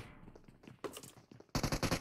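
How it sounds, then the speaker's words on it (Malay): Bursts of rapid automatic gunfire in a PUBG Mobile match, a sparse distant volley at first, then a louder dense burst of closely spaced shots near the end. "Satu tembakan di bahagian bawah."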